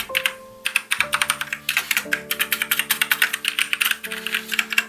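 Rapid clacky keystrokes on a freshly cleaned MAXTILL TRON G400K mechanical keyboard, close and crisp, with a steady low musical tone droning underneath.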